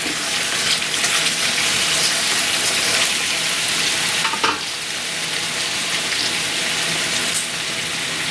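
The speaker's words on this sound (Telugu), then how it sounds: "2 ఎల్లిపాయలు, కొద్దిగా చింతపండు, కొన్ని పల్లీలు ఇవన్నీ వేసుకొని వీటిని కూడా బాగా ఈ ఆయిల్లో ఉడికించాలి" Garlic, tamarind and peanuts frying in hot oil make a continuous bright sizzle with occasional stirring clatter, steady and close, with no voices.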